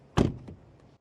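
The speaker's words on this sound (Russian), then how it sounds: "Зато звук закрывания двери вполне достойный." The door of a Mazda 6e electric car shuts with a single solid, damped thunk, close up and loud, followed by a faint latch click and quiet.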